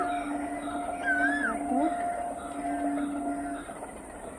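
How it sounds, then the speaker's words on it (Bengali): Tarakeswar passenger train passing in the distance, a faint steady rumble with a long drawn horn-like tone and whining wheel squeal, carried from far off across open ground. "তারকেশ্বর ট্রেন যাচ্ছে"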